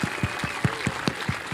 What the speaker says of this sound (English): let's just have a massive round of applause.